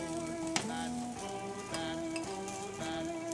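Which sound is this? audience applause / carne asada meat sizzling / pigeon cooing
carne asada meat sizzling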